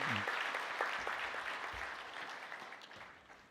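A Presbyterian church congregation gives encouraging applause after a baptism announcement during Sunday worship, a fairly soft, even patter of many hands that slowly fades, with a brief voice near the start.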